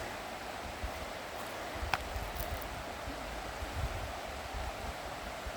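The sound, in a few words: river flowing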